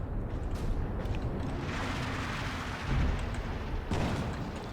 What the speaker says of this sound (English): So the 240 howitzers are going out, not doing a whole lot, just really just area denial.